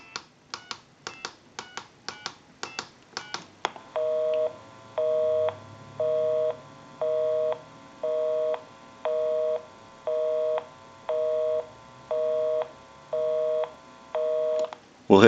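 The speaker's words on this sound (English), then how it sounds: "we'll call my number, and it'll be busy." A TA 954 military field telephone taps out a quick run of DTMF dialing tones, then a steady, evenly pulsed busy signal repeats about eleven times, clear and close with no voices.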